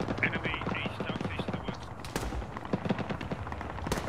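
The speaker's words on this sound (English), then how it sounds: "we are taking fire there" Arma 3 combat gunfire of rapid rifle and machine-gun shots cracking in irregular bursts, some near and some distant, with a voice talking over the fire.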